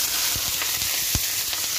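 Vegetables hitting hot oil for instant noodles: a steady, dense sizzle fills the short stretch, with a few soft thumps and stirring knocks close by and no talking.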